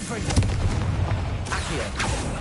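A Confringo fire spell goes off in the Hogwarts Legacy game as a series of deep, rumbling explosive booms, with a voice speaking over the blasts.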